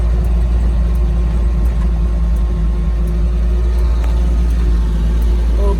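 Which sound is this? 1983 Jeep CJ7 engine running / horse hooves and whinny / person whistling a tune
1983 Jeep CJ7 engine running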